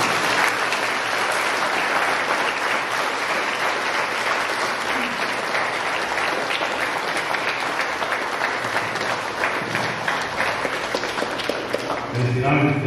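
Enthusiastic applause at a quinceañera celebration with a blessing, a dense and loud roar of clapping that continues unbroken for over ten seconds, with crowd murmur and voices mixed in beneath it.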